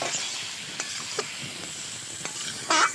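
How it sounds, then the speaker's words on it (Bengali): Malabar spinach stalks frying in a pan of spice masala, a soft steady sizzle with occasional stirring clinks and scrapes, then a brief louder burst near the end. "এই কষানো মশলাটার উপরে পুঁই শাকের ডাঁটাটা দিয়ে দিলাম, ভেজে রেখেছিলাম সেই ডাঁটাটা দিয়ে দিলাম, দিয়ে এটা একসঙ্গে কষিয়ে নেব।"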